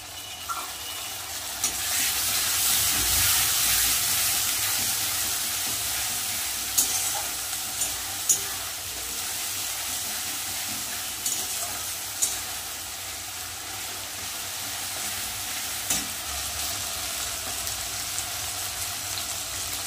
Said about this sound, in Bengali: পেঁয়াজ কিন্তু হালকা লাল লাল ভাজা হয়ে গেছে, বেটে রাখা আদা রসুন পেস্টটা দিয়ে দেবো।